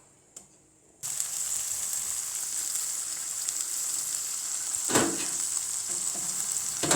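Bacon hits a hot oiled pan after a moment of near silence and sizzles loudly and steadily while being stir-fried for tteokbokki gratin, with a spatula scrape cutting through partway.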